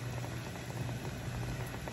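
A pot of beef bone pho broth simmers at a rolling boil, with soft, continuous bubbling that stays quiet and steady throughout, and no voices.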